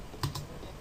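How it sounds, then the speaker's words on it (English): A short burst of typing on a computer keyboard, a few quick close key presses as a network-shell command is entered on a Windows PC. "So in here then you want to type netsh int IP"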